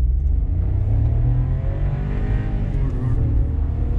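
A 2020 Volkswagen Polo GT TSI revving loudly in sports mode before a launch control start, a steady deep engine drone held close and constant throughout, with no talk over it.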